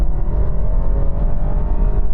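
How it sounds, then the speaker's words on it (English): A BMW 320i engine drones loud and steady under hard acceleration from a standstill during a 0 to 60 run, a dense continuous roar without breaks or talk. "Engine shrieking."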